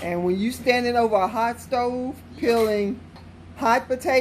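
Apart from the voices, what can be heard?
No distinct noise like a dog, phone or traffic.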